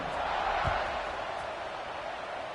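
Stadium crowd noise from the video game NCAA College Football 26, a steady loud roar filling the whole moment with no break.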